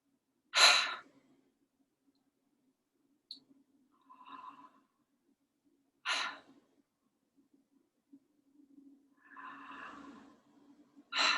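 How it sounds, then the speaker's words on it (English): Pranayama breathing through the mouth, with sharp forceful breaths recurring every few seconds, separated by softer exhales and quiet pauses, close and clear with no talk. "So breathing in through the mouth, out through the mouth."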